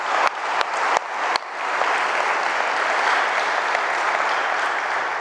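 A few sharp separate claps open, then a congregation at a community gathering breaks into full sustained applause, a loud dense roar of clapping that carries on steadily.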